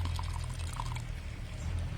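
Water pours and splashes steadily for mixing cement paste for a flower pot, a continuous close liquid rush with faint bubbling, heard alone without talk.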